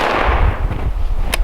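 A single hunting rifle shot is fired at a big bull during a late-season hunt. It is one sharp, loud crack near the end over a steady low wind rumble.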